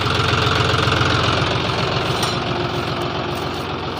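A John Deere tractor engine runs in third gear through clay soil, a loud, close, continuous diesel chugging with a steady knocking pulse and no talk over it.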